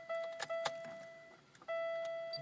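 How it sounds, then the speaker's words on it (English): Pontiac car being switched on from inside the cabin: a few clicks and ticks, then steady electronic chime-like tones that pause briefly and resume, faint and close, with no voices. "we're going to turn the car on and see if everything works like it should"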